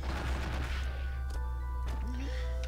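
Rapid gunshots and blade slashes from Night Raid's running special in the fighting game GetAmped 2, a burst of sharp hits over a dense game soundscape with a few tonal effects.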